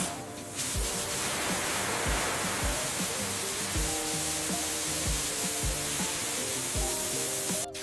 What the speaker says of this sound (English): It is sprayed into the tank to provide that slight tartness and to act as a preservative.